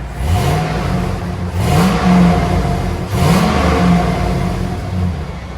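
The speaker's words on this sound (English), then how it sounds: "2001 GMC Sierra. This is what it sounds like before we do duals on it." Stock exhaust on a 2001 GMC Sierra with the 5.3L V8, revved three times in a row, each rise climbing in pitch then falling back to a steady idle; loud and close, with no talk.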